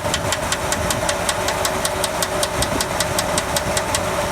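An engine idles steadily after its number 4 cylinder lifters were replaced, loud and close, with a fast, regular metallic ticking running through the whole stretch.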